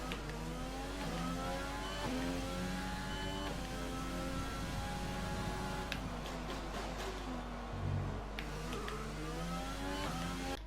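An F1 car engine in F1 2020 screams through a qualifying lap at Monaco, high revs rising and dropping with gear shifts and braking, steady and unbroken with no talk.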